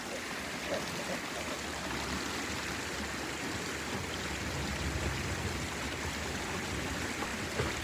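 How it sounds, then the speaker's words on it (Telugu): A cold mountain stream in Ladakh's Nubra Valley region rushes with a continuous, dense broadband wash, close and steady, with no voices. "సో ఆ వాటర్ ఇక్కడ కూడా ఫ్లో అవుతుంది."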